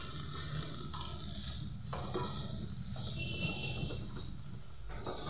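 Boiled Maggi noodles being stirred with Maggi masala in a hot frying pan, giving a steady close sizzle with soft scraping and stirring, continuous and unbroken, with no talk.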